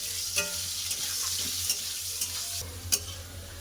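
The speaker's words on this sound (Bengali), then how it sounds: "দিয়ে ভালো করে আলুগুলো ভেজে নেব" Steady frying sizzle of potatoes in hot oil with turmeric and salt, with a few sharp scraping clinks of a spatula stirring now and then.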